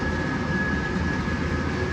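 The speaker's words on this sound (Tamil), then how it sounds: "ஸோ இப்போது நான் மோட்டர் ஆன் பண்ணுறேன் மேனுவலாக ஆன் பண்ணோடனே உங்களுக்கு தண்ணி எடுக்கிறது தெரியும்." An electric water pump motor, switched on by hand at a water level controller setup, gives a steady, continuous mechanical hum at moderate level with no talk.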